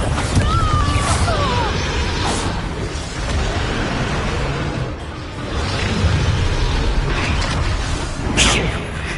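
Spell blasts from Hogwarts Legacy on PS4, fiery Confringo and explosive Bombarda casts, crackle and boom through dense, sustained game combat noise, with mechanical creaks, whooshes and bright bursts around two and eight seconds.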